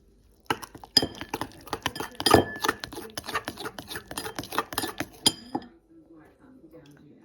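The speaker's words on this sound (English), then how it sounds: "I always mix my icing with a knife, and I particularly like these old bone-handled knives for mixing icing." A bone-handled knife mixing icing in a bowl, with rapid clinking and scraping strokes in a steady rhythm for several seconds before stopping, close and clear, with a voice speaking over it.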